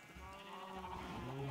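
A brief sheep bleat in Minecraft, wavering and drawn out, with soft background sounds underneath.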